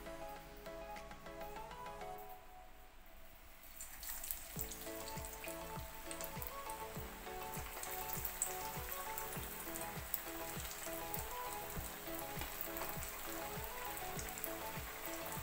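Jackfruit seed vada sizzle and crackle as they drop into hot oil, first as a soft bubbling hiss and then as denser spattering that grows busier after a few seconds. Music plays underneath.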